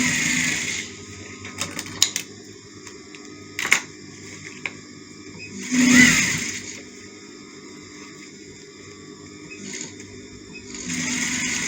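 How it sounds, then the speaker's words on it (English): A sewing machine top stitching a jacket made of African fabric runs in short, quick bursts between pauses, with a low mechanical hum and clicks close by and no talking. "So I'm sewing the other side."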